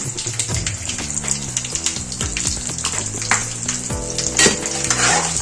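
Pulihora tempering with turmeric being stirred in a pan: continuous sizzling and frying with repeated scraping stir strokes, close and fairly loud, with no talking.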